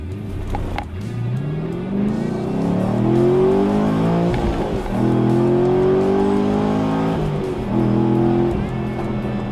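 A Camaro Z28 with a 7-liter V8 revs and accelerates hard, its loud, deep engine note climbing through the gears with brief drops between shifts, close and dominant.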